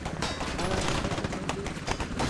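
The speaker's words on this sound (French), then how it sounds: "Il se fait allumer l'hélico." Rapid gunfire aimed at a helicopter in the military shooter game Squad, dense crackling shots over a continuous engine rumble.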